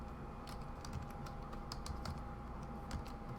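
Computer keyboard keys clatter in quick, uneven bursts while network routing commands are typed, close and fairly quiet over a steady background hum.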